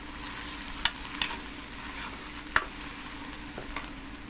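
Chopped tomatoes, onion and green chillies frying in a pan, a steady soft sizzle throughout with a few sharp clicks of a spoon stirring against the pan.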